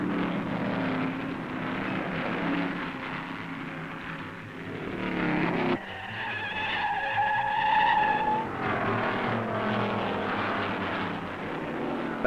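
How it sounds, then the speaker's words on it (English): A 1969 NASCAR Grand National stock car skids and spins out in a turn, a long, shrill tire squeal over roaring race engines, heard at a distance with shifting pitch. "The Falstaff camera caught Richard Petty as he lost it and spun out in the 4th turn"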